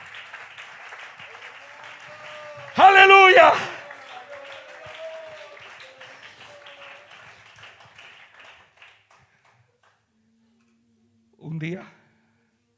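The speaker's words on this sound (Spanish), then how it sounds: "Démosle un aplauso a Jesucristo, hermano, en esta mañana." A church congregation applauds in a short burst of clapping, then talk carries on under fading room noise, followed by a later brief shout.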